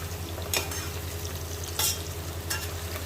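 Red chili and mutton with garam masala sizzle steadily in a pan, a constant frying hiss with a low hum beneath and three sharp scraping stirs of a spoon at regular intervals.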